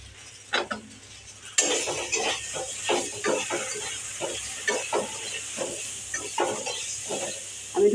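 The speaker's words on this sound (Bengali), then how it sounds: "আমি একটু ভাজা করে তাও তোমাদের দেখাচ্ছি" Chili powder, hot chili powder, ground coriander, ground cumin, turmeric and salt fry in a pan. A steady hiss sets in after a quiet start, broken by repeated scraping and clinking as the spices are stirred, with no talk.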